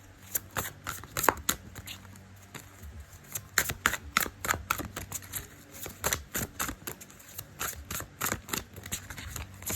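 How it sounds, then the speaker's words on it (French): Oracle cards from The Sacred Traveler deck are shuffled close by in quick, irregular bursts of crisp flicks and riffles that run throughout. "on fait avec le voyageur sacré de Denise Linde. Petite carte de conseil."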